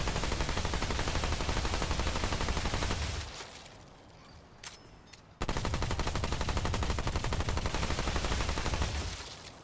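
Rapid automatic gunfire from a weapon in Remnant 2, a loud sustained stream of shots that breaks off for a couple of seconds amid quieter game sounds, then resumes just as dense and steady.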